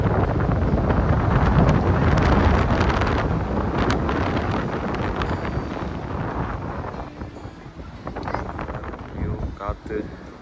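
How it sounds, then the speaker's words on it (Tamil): Strong wind buffets the microphone in heavy, rumbling gusts on a steel footbridge at Tintagel Castle in Cornwall, easing off slightly toward the end. "காற்று செமையாக இருக்குது."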